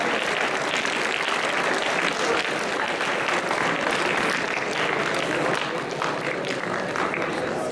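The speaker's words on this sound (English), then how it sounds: "could we please have a bigger round of applause?" Sustained audience applause for trophy winners at a club prize distribution ceremony, a dense, steady wash of many hands clapping throughout at even loudness, with no voices standing out.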